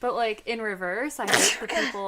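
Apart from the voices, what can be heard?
sneeze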